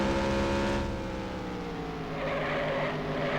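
Simulated stock-car engines from the NASCAR Racing 1996 video game at North Wilkesboro, a steady droning hum with layered tones drifting in pitch, moderately loud and continuous with no talk.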